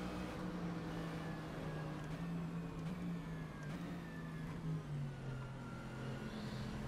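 A racing car engine in the video game rFactor 2 drones steadily, pitch rising and falling slightly as it holds speed, continuous and fairly close with no talk.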